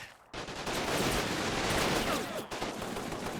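Sustained gunfire from sniper teams in the Combat Mission battle game, Utah Beach hedgerow fighting, a dense continuous crackle of shots after a brief quiet start, fairly loud and steady with no voices.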